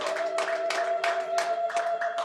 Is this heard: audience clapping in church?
yes